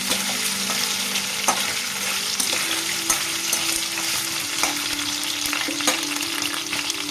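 Cumin seeds for a potato and pea matar pulao sizzle in a hot pan: a loud, steady crackling fry up close, with occasional scrapes of stirring.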